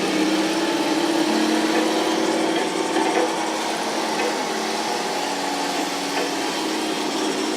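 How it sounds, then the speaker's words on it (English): RC model tank with its electronic engine sound running steadily, a continuous mechanical whir with faint clicking and creaking from the tracks, close and uninterrupted with no talking. "And the engine sounds and the track creak and all that."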